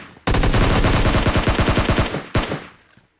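Gunfire in a PUBG-style battle royale video game. A loud, close burst of rapid automatic fire lasts nearly two seconds, followed by a second short volley, with no talk.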